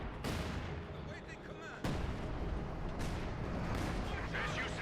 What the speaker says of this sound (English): Our headquarters is taking enemy fire.